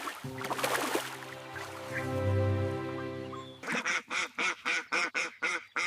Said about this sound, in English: The duck is very noisy.